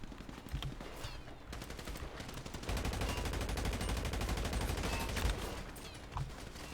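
Rapid bursts of video game gunfire crackle almost continuously, with dense automatic volleys and a loud, steady intensity throughout.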